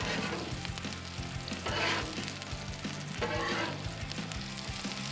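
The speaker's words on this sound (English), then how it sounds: "Let's mix in our chorizo with our pork belly." Chorizo and pork belly sizzle on a Blackstone griddle, a loud, close, continuous frying crackle with periodic scraping and stirring strokes from a spatula.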